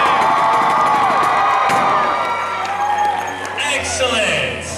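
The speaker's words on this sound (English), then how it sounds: "making this stage quake by cheering to get them out here" Convention audience at an anime fashion show cheering and shouting together on a count of three, a loud burst of whoops and screams from a large crowd that swells at once and then slowly thins, with some voices carrying over it.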